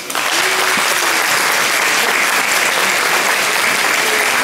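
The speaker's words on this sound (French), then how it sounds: "je veux, en votre nom, les remercier et on peut les applaudir." Loud, dense applause from diners at a seniors' meal event, continuous and close throughout with no pauses or voices.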